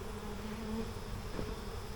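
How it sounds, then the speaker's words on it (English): Honeybees swarm around a hive crowded with burr comb, a steady close insect drone filling the short stretch with a brief louder swell near the end. "Don't want to kill all these bees"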